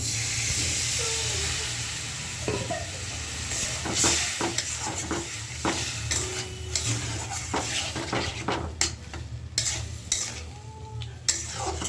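Spiced masala with coriander powder and a splash of water being stirred and fried in a pan for an egg curry, with steady sizzling, scraping spoon strokes and clinks against the metal pan.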